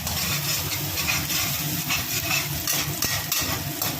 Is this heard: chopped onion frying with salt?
yes